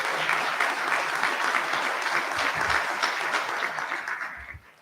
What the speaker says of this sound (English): So a round of applause for Delissa,